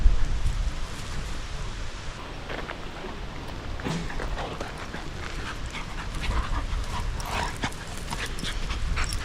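A puppy pants rapidly and whimpers close by, with a busy background of rustling and scuffling.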